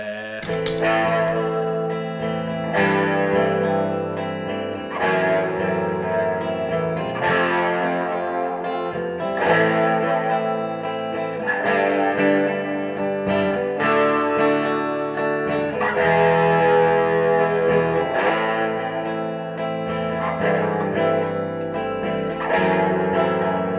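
Distorted electric guitar chords repeat in a steady loop-pedal loop with a bass line underneath, processed with effects and reverb, loud and continuous.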